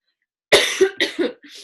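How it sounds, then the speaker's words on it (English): A woman coughs in a quick harsh burst of four or five hacks, close and loud against silence, while drinking nettle tea. "I'm drinking nettle tea and I'm sure it's actually making me cough more."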